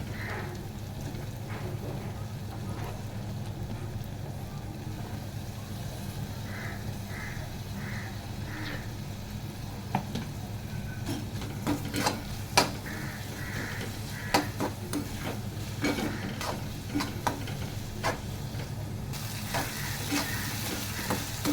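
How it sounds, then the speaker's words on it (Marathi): Onion and tomato frying in a pan for a cashew curry give a steady, moderate sizzle, with scattered scrapes and clicks of stirring. Crows caw faintly now and then in the background. "कांदा आपला भाजत आला आहे. आता आपण टाकू याच्यामध्ये टोमॅटो."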